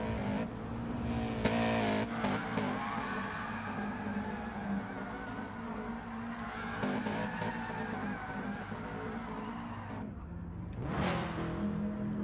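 Race cars lapping the reversed Dragon Trail Seaside circuit in Gran Turismo, a steady, loud engine drone with shifting revs and bursts of tire skid as drivers yank the handbrake.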